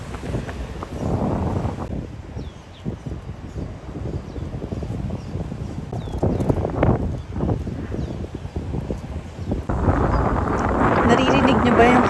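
Strong wind buffets the microphone outdoors in Taipei on the way to Chiang Kai-shek Memorial Hall, a steady rushing roar that swells near the end, with people talking throughout.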